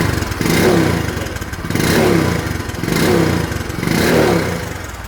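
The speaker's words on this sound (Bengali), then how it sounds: "সাইলেন্সারের সাউন্ডটা যদি আপনারা শোনেন" A Bajaj Discover 125 cc motorcycle exhaust revs in four even, rising-and-falling surges, the single-cylinder engine close and loud, idling with a throbbing putter between each throttle blip.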